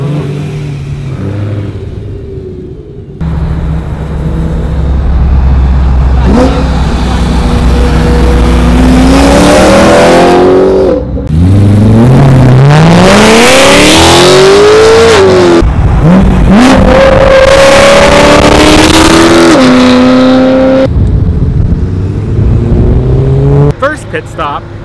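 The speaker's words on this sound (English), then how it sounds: "We got some cool cars leaving. Look at this wide body." A wide-body BMW M3 revs hard and pulls away, its engine climbing in loud, rising sweeps with a few throttle blips. People talk and shout over it, and the sound stays close before cutting out near the end.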